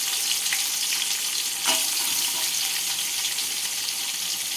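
Half a kilo of onions sizzle and crackle steadily in a hot pan while frying for prawn biryani, with a brief stir or scrape partway through.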